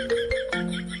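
An incoming phone call sets off a ringtone during a comedy skit: a short melodic electronic tune of bright stepped tones lasting about a second, clear and alone with no talk.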